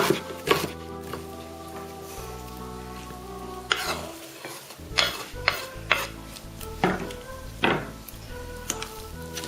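Utensil scraping and stirring in a pan, with repeated sharp clinks and scrapes over a steady low background, no talking.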